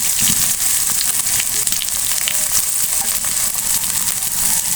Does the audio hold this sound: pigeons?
no